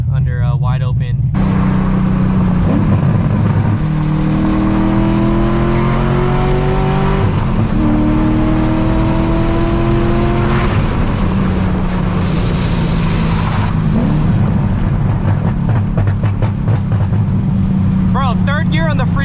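A straight-piped Corvette Z06 with its LS7 V8 accelerating hard at wide-open throttle while misfiring, heard loud and close from inside the car as the engine note climbs through the gears in long sustained pulls.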